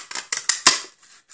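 Scissors snipping through cardstock for a handmade stamped card, four quick crisp cuts in a row before the blades settle, close and fairly loud, with no talking.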